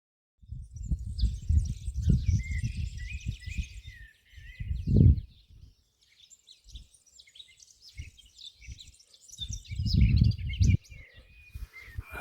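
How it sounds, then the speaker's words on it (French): Birds sing and chirp outdoors on the Aubrac plateau, with scattered high calls over much of the stretch while louder low rustling and footstep-like noise comes and goes underneath. "Ça c'est la minute pour les oiseaux."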